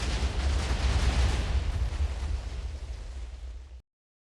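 TNT exploding in the Minecraft video game, a loud continuous rumbling roar of blasts lasting several seconds before cutting off abruptly to silence.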